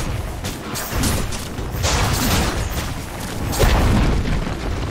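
Tower collapsing in the Dota 2 video game, a series of deep booming, crashing blasts layered over continuous game noise with no voices.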